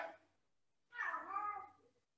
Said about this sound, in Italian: Mi è arrivato il mio gatto.